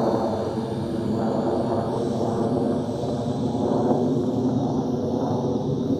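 JXD 509W quadcopter drone in flight outdoors, a steady buzzing whine of small rotors holding level and continuous at moderate distance.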